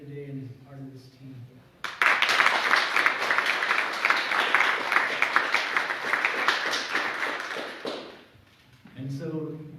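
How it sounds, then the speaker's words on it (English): A round of applause for the census team in a council chamber in Pojoaque, New Mexico. Loud, dense clapping bursts in after a brief voice, lasts about six seconds, then fades as a voice resumes. "we all just give a huge round of applause for everybody that's here today and is part of this team"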